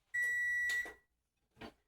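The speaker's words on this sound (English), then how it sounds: "Oh, here's my timer." A kitchen timer goes off during rice cooking for Asian-inspired cabbage rolls, one long steady electronic beep near and clear, then a brief softer blip after a pause.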